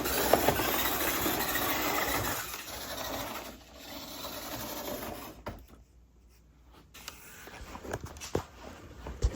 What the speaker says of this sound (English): So I can turn on engine 1, turn up the juice, and have it run down the track.